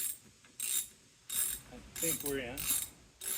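A ratchet fitted with a 16 mm socket clicks in short repeated bursts while tightening parts on a Husqvarna 535 FBx backpack chainsaw, close up, with brief speech in between.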